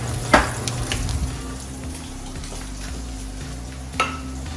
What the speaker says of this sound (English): So we're gonna saute the vegetables now here. with a little bit of olive oil.